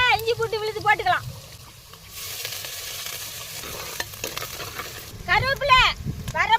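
Mustard seeds, onion and ginger garlic paste fry and get stirred in hot oil in a pan for village-style Pallipalayam chicken, a steady loud sizzle with scraping, under talk at the start and end.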